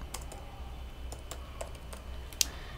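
Someone types code on a computer keyboard in quick, irregular bursts of light key taps, soft and close, ending with one sharper keystroke.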